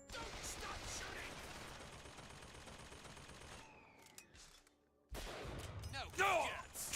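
Rapid gunfire from the shooter game BioShock Infinite crackles in a dense, continuous burst, drops away briefly, then resumes loudly with a sharp, intense volley, mixed with game sound effects.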